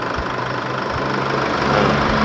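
An Isuzu D-Max 4JK1 diesel pickup engine with leaking injector washers and clogged injectors idles steadily and loudly up close, a low rumble with a fine knocking texture that stays even throughout.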